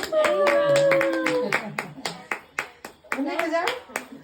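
Family members clap for an anniversary at home, a run of sharp, close handclaps in a loose irregular rhythm, while voices talk and call out over the clapping at the start and end.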